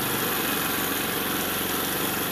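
A small engine of a Motor Star Easy Ride 150n motorcycle runs steadily at idle, a continuous buzzing drone with no breaks and no voices.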